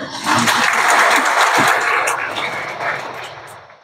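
A university lecture-hall audience breaks into broad applause, a loud continuous roar of clapping that swells quickly, holds, then gradually tapers off.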